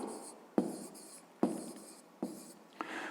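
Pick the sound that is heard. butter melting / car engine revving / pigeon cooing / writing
writing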